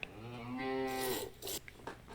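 A cow moos in Ranch Farm & Store Simulator, one long, fairly quiet low bellow on a farm, followed by brief clicks and rustling noises.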